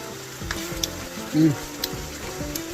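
Chicken adobo in a creamy coconut-milk and vinegar sauce sizzles and bubbles steadily in a pan, a close, continuous frying hiss with a few brief clinks and stirring scrapes.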